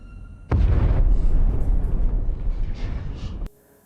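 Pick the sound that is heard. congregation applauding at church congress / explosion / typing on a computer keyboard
explosion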